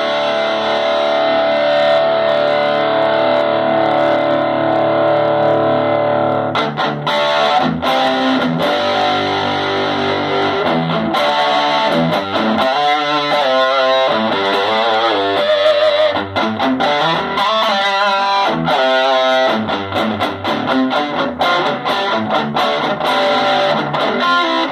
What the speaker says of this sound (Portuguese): Tem uma distorção forte aí.